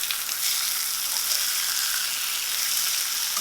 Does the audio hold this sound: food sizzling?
yes